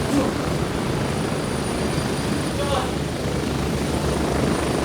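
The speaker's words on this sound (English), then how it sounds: "Oh, wait, my chopper's here!" A video game helicopter arrives with a loud, continuous rotor thrum and engine roar that fills the scene steadily; a voice talks briefly underneath.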